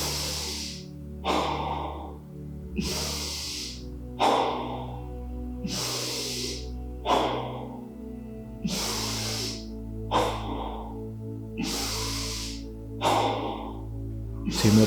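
Deep, slow belly breaths during a yoga breathing practice, about ten long airy inhale-exhale cycles in a steady rhythm, close and fairly soft, with no talking over them.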